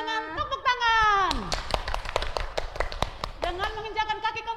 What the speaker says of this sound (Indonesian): Ayo, tunjukkan semangatmu dengan tepuk tangan.